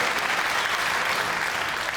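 Steady, dense applause from a crowd at a bowling match in Barnsley after a shot, continuous and even throughout without gaps.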